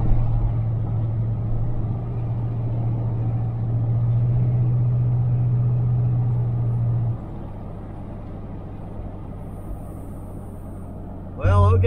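A 1977 Chevrolet Malibu Classic engine idles and rumbles steadily on a test drive, with a low droning hum that swells mid-way then settles, heard close inside the car, with a brief noise at the very end.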